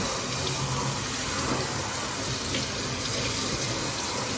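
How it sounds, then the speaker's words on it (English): Cold water runs steadily from a tap over water-soluble stabilizer fabric, a continuous broadband splashing hiss that holds close and even throughout with no talking. "I'm going to run this underwater now. I just use cold water."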